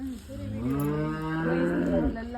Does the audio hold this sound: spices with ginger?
no